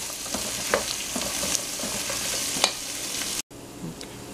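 Onion, garlic and tomato frying in a pan for a South Indian fish curry: steady soft sizzle with scraping stirs and light clicks, close up, briefly cutting out near the end, no voices.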